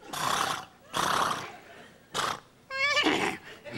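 A man vocally imitates a horse, giving several loud, rough neighing bursts followed by a final rising, quavering whinny, close up with no other sound.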